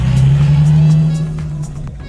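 A Mercedes race car at a Targa tarmac rally event in 2022 drones past loudly with a sustained engine tone that fades as it moves away.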